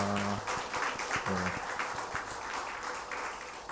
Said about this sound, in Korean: 격려와 축하의 박수 보내드리겠습니다